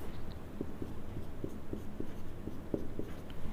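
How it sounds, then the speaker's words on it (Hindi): Pen writing on paper during an anatomy lesson about the human eye, a series of soft, quick scratching strokes with small taps, close and quiet. "इधर लिखते हैं इसे"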